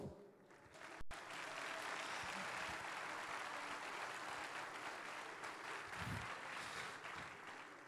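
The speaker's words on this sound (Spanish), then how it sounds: "Quiero que le den un fuerte aplauso," Crowd applause at the official opening of a Campus Party tech event in Mexico, a broad, steady clapping wash heard at a distance and fairly quiet, broken by a sharp click near the start.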